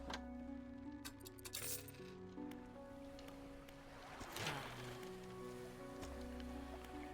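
In the Dredge video game a fishing boat's engine runs with a steady, low droning hum, joined by light water and clinking sounds and a brief swell of noise midway.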